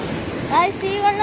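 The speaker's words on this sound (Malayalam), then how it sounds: "ഇവിടെയൊക്കെ നല്ല വെള്ളമാണ് ഗൈസ്, മഴ പെയ്തല്ലേ ഗൈസ്, അതുകൊണ്ട് നിറയെ വെള്ളമാണ്" Rain-swollen water pours over a waterfall in a steady, moderate rush of noise, with a few faint high tonal chirps heard briefly above it.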